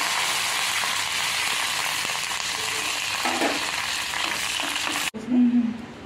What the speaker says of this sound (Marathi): तर थोडंसं तेल घेतलं आहे, त्यामध्ये थोडीशी मोहरी, जिरे टाकले